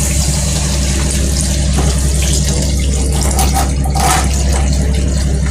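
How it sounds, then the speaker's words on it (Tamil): Water is poured from a tap or jug into a cooking pan for a sankara fish curry, a loud steady rushing splash running throughout with no talk. "இப்போ தண்ணி ஊற்றிக்கலாம்."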